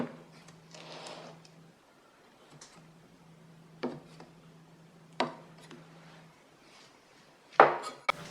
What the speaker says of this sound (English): we'll use a tool just to divide the dough